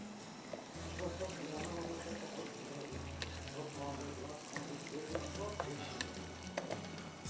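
Egg and lightly browned garlic frying in a pan, a steady crackling sizzle running throughout with occasional stirring clatter, under someone speaking.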